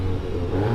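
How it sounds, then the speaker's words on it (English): A VW Golf GTI Clubsport engine drones close by in a short, low, steady rev with a constant rumbling hum and no voices. "Go on, rev up your Golf."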